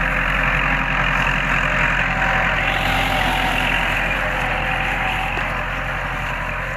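A Kubota L4708 tractor engine runs steadily and loudly, with a low, rough, continuous drone as it works a rice field with a disc harrow.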